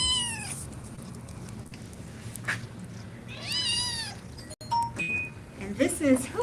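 A nine-week-old domestic shorthair kitten at an adoption center cries with repeated high, wavering meows, several short calls spread across the clip, with people talking nearby.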